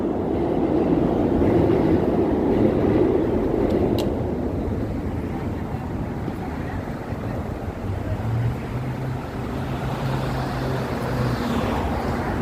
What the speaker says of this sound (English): You hear the subway, guys?